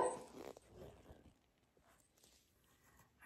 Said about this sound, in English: I have two lab puppies and they bark all the time